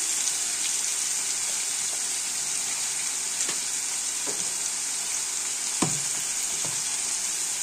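Finely chopped tomatoes and curry leaves fry in hot tempering oil for a Telugu tomato, ginger and green chilli curry, with a steady, close hiss and a few soft clinks and stirring knocks.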